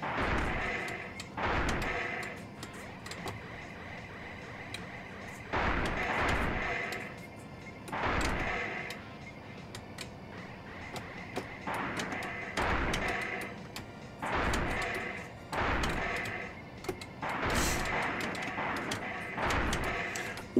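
Dual missiles launching in the arcade-style video game Bridge Strike, repeated heavy whooshing blasts arriving in pairs and clusters at a steady pace, fairly close over a low background, with no speech.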